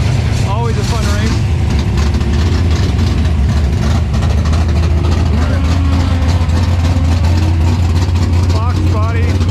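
Drag racing engines, a Toyota Supra and a Mustang, idle with a loud, deep, steady rumble at the strip, while people talk over the noise.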